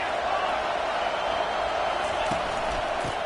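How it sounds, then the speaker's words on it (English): Stadium crowd noise in the NCAA College Football 25 video game: a steady, full roar from a large crowd that holds at one loud level, with a voice faintly over it. "This crowd bringing the energy and noise early"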